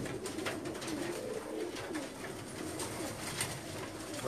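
Pakistani pigeons at a rooftop loft in Jeddah coo steadily in overlapping, rolling calls, fairly close and continuous over a constant background hiss.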